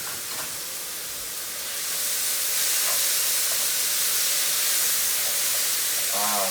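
Jalapeno, tomato and onion sauté in a pan alongside taco meat, giving a constant broadband sizzling hiss that swells a little after the first couple of seconds and stays steady.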